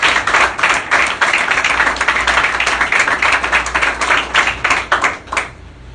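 A church congregation applauding loudly for the Lord, dense sustained clapping from many hands with a steady pulse, close and continuous, fading slightly at the end.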